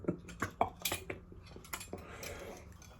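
Metal cutlery dropped at a Mexican street-food breakfast of tamales and atole clatters and clinks in a quick burst of jangling hits, then settles into fainter rattling, close and fairly quiet.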